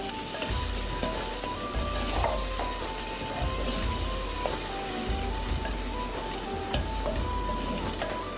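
Finely chopped tomatoes stirred into a frying masala base for matka biryani give a dense, continuous sizzle like steady rain, with soft scraping stirs of a spoon throughout, close up and with no voices.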